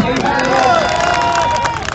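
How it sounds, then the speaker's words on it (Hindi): A crowd at a BJP election rally in Shahdara, Delhi claps and cheers in a dense, continuous roar, with raised voices carrying over the din. "ताली तो बजनी चाहिए"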